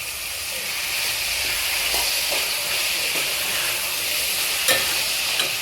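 Mushrooms and a handful of mint sauté in hot oil for a mushroom dum biryani, giving a steady, close sizzle and hiss with a few faint stirring knocks from the pan.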